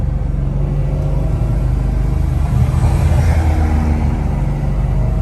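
An SRT8 car fitted with new springs drives in first gear, its engine a loud, steady rumble that fills the whole stretch without a break.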